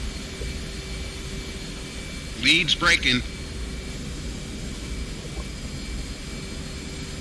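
Jet engine noise in the DCS flight simulator, a steady droning whine running throughout, with a brief burst of radio-style speech partway through.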